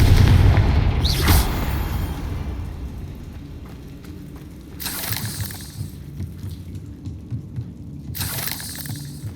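A Confringo explosive spell goes off in Hogwarts Legacy: a deep, loud boom opens the clip, and two later bursts follow at moderate level over a low, rumbling game ambience.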